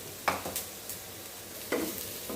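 A pan of grated coconut and pepper powder being sautéed, with a steady sizzle broken by a few sharp scraping stirs of a spoon against the pan, close and fairly loud.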